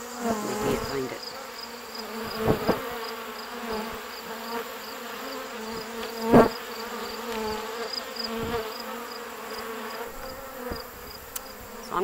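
A dense, continuous buzz of many bees fills the air nearby, with individual insects droning past now and then.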